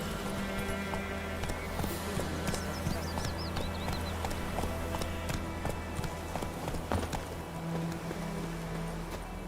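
Horse hooves galloping in The Witcher 3, a steady fast clip-clop over game music and ambience, with speech heard partway through.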